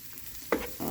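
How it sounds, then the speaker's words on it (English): Onions caramelizing in a pan for a pumpkin curry, a soft steady sizzle that swells with a sudden louder burst of stirring and frying near the end, close by with no talking. "just to get the onions caramelized"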